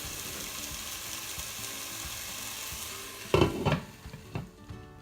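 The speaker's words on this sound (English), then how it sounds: "in this stage I just briefly cover this pan and let cook it for 1 to 2 minutes." Salmon with onions and ginger cooks in a covered pan, giving a steady, soft sizzle close by, broken near the end by a few clattering knocks from the lid and pan.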